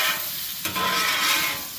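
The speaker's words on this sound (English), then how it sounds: "I'm literally just letting that scraper skate across the griddle top." Metal scraper skating lightly across a Blackstone griddle top during cleaning, a continuous close scraping hiss with a sizzling texture and a brief tap midway.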